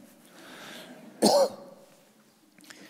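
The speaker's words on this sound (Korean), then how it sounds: "70 넘으니까 이렇게 기침이 많이 나와요." A single sharp cough from a man over seventy bursts out loud and close during a church prayer service, standing out against a quiet background.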